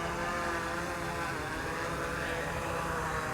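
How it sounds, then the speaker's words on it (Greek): DJI drone descending onto a landing pad beside asphalt, its propellers producing a steady, loud, close buzzing whir that stays constant throughout. "και το drone έρχεται για την προσγείωση"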